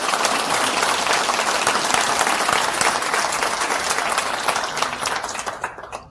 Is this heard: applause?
yes